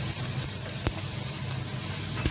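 Celery and carrot fry in a hot pan for a Filipino stuffed squid dish, giving a steady close sizzle throughout with a couple of brief clicks, no talking.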